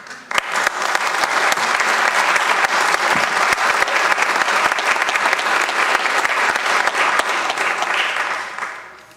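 A room at a city council meeting fills with steady, full applause for Linda, dense clapping holding evenly for several seconds before easing slightly at the end.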